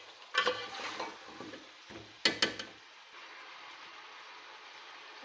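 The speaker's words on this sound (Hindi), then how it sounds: "अदरक लहसुन के पेस्ट में हम इसकी अच्छी तरीके से भुनाई करेंगे।" Beef frying with onions in ginger garlic paste for nalli nihari, giving close, loud bursts of sizzling and stirring at the start, then a steady softer frying hiss with no talk.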